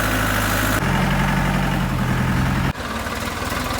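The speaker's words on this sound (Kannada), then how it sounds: "ಅಲ್ಲಿ ನೋಡಿ ನೋಡಿ ಟ್ರ್ಯಾಕ್ಟರ್ ಹೆಂಗೆ ಹೋಗ್ತಾ ಇದೆ" A tractor engine rumbles heavily and close, its low drone shifting in pitch twice as it labours along a rain-soaked, muddy road.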